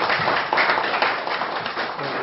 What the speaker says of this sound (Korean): 한 번 더 우리 참 동의하고 감사합니다 하는 박수를 드리겠습니다